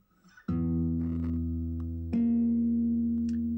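Two sustained plucked guitar notes, the second entering over the first so they ring together as a tense, dissonant interval, close and clear.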